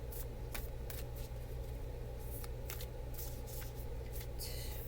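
Tarot cards are shuffled close up in a quiet room, a series of quick papery riffles and slaps in irregular bursts over a low background hum.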